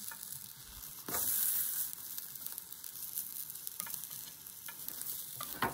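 Egg mixture for tamagoyaki sizzles in a frying pan, a steady close crackle broken by sharper scrapes and taps of chopsticks rolling the egg, with one louder burst of frying.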